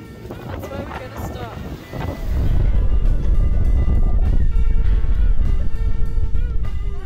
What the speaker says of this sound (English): Chose a windy day for it!